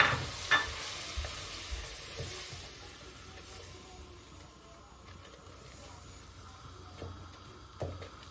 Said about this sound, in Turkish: Şimdi üzerine 2 yemek kaşığı tepeleme unumuz var. Bunu kavuracağım.